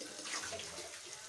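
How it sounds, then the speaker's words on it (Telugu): Water poured into a cooking pot of tomatoes and turmeric for tomato pappu charu, a steady splashing pour heard up close and alone for just over a second. "కొద్దిగా వాటర్ యాడ్ చేద్దాం."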